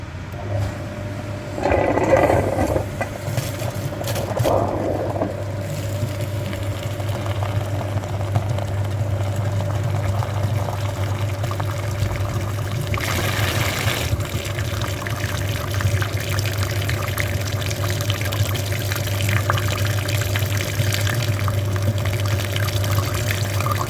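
A radiator flushing machine cleaning an Infiniti FX35 heater core runs with a steady low hum and the sound of flowing liquid, loud and continuous throughout.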